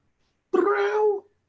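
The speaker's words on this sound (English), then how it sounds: "I'm pretty sure that's kitty for now." A cat gives a single clear, drawn-out meow lasting under a second, close and fairly loud after a moment of silence.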